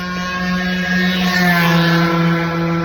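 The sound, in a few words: motorcycle passing by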